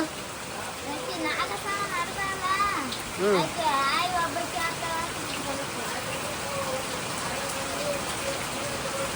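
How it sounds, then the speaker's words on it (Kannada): Evening rain falls in a steady, continuous patter on a village surface, while children's voices chatter and call in the background at moderate distance. "ಇವಾಗ ಮಳೆ ಬರಕತ್ತದ ನೋಡ್ರಿ"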